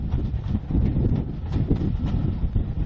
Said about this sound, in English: Right, on the train now.